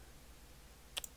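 A computer mouse gives two quick, close, crisp clicks in a double-click near the end, after a stretch of low steady hum.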